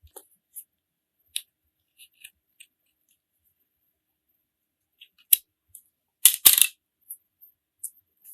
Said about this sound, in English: Cut the tag here.